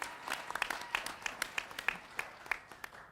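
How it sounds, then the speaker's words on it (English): Scattered, fairly faint applause from a modest audience at a panel discussion, with individual claps standing out irregularly over a soft background of room noise. "a big round of applause to them"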